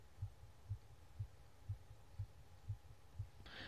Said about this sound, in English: Is that my heartbeat?